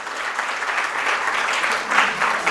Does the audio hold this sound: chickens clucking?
no